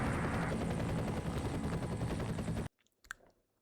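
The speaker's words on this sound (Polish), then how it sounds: "Dobra, lecimy gdzieś śmigłowcami." A helicopter flies in the video game F.E.A.R., a loud steady rotor roar with a dense rumble that cuts off sharply. A few faint scattered clicks follow in near silence.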